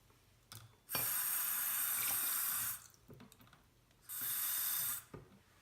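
Tap water runs into a sink while makeup brushes are rinsed, in two loud steady bursts of about two seconds and one second. Between them come quiet clicks and handling sounds, with no talk.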